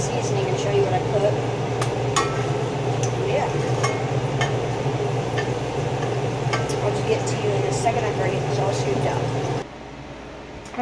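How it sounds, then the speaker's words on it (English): Cooked tilapia being scooped onto plates, with faint clinks of utensil against dishes over a steady humming background, close by and under occasional talk; the hum drops out near the end. "So I'm about to just scoop it on to my plates."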